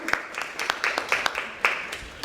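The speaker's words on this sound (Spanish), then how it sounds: "Aplauso para la doctora" Audience at a panel discussion on women in communications gives scattered, light applause for a speaker, a handful of separate claps spread unevenly over a couple of seconds at moderate distance.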